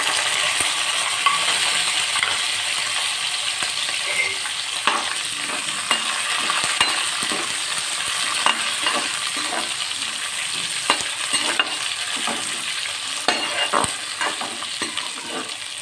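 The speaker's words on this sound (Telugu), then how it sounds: "వేగినాక ఆనియన్ పచ్చిమిర్చి టమాటా కరివేపాకు ఇవి కూడా వేగిస్తాము" Onion, green chilli, tomato and curry leaves fry together in a pan for Rayalaseema-style uggani, a continuous close sizzle punctuated by frequent sharp clicks and taps of a spoon stirring against the pan.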